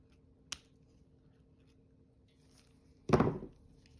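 Scissors cut greenery for a resin memorial piece: one sharp, quick snip, then after a quiet pause a louder, crunchier cut that fades briefly, in an otherwise still room.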